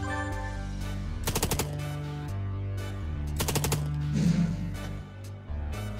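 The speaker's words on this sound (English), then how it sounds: "so I'll just shoot him in the legs now." Two rapid bursts of gunfire in the video game Long Gone Days, each a quick rattling volley of shots over a steady droning music bed.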